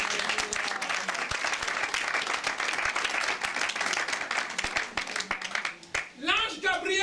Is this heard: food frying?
no